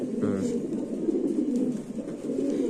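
Racing pigeons at a pigeon farm coo steadily in a low, continuous murmur that fills the whole stretch at close range.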